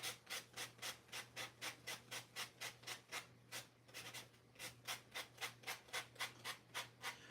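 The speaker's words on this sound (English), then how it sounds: "you can easily just go around it with a sanding block like this" Sanding block rubbed along the edges of a polymer coaster in quick, even back-and-forth strokes, a soft rhythmic scraping, close and faint, with a short pause midway.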